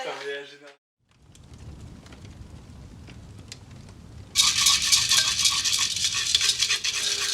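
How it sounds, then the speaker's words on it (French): Coffee beans are ground, likely in a hand grinder, starting as a low, soft crunching and then shifting to a louder, close, steady gritty grinding that continues to the end. A brief voice is heard at the very start. "Je suis en train de moudre le café."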